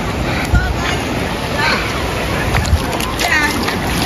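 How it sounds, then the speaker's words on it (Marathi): Sea waves wash and break on a Konkan beach at Divyagar, a steady rushing surge with splashes, close and loud, with wind noise. "लाटा"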